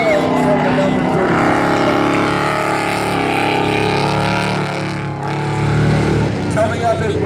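Race trucks roar around Valley Raceway during a truck class feature race, a loud continuous engine drone with passing swells. A commentator talks over it.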